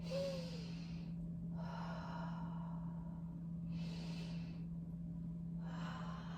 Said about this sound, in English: Take a couple more rounds of breath here.